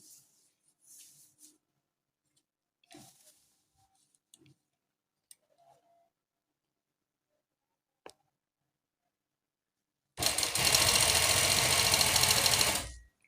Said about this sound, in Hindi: अब इसकी स्टिचिंग करते हैं।